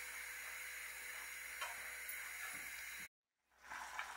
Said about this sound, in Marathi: आपल्या वरणाला मस्त उकळी आलेली आहे